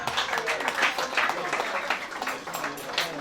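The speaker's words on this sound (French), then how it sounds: "Les femmes, est-ce qu'on peut applaudir très fort?" Women in a wedding crowd applaud loudly, a dense, sustained patter of many hands clapping for a few seconds, with voices mixed in.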